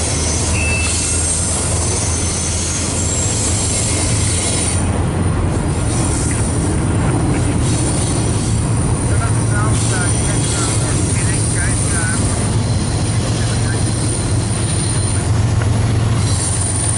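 A train rolls past close by on a busy railway line, loud and continuous, with wheels squealing against the rails and a rhythmic clatter. People talk over it.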